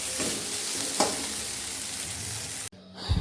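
Food seasoned with sugar and salt fries in a pan with a continuous sizzle and a couple of stirring clacks, then breaks off abruptly and a brief rustle follows.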